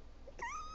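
A pet cat gives a single short, faint meow, rising then falling in pitch, heard alone in a quiet room.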